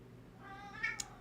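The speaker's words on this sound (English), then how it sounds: "our cat is going crazy." A pet cat gives a single short meow indoors, close and clear, rising at the end, with no talk over it.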